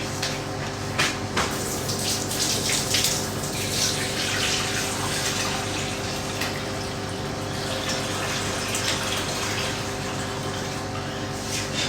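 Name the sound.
water running from a tap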